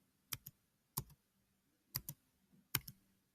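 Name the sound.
typing a library barcode number on a computer keyboard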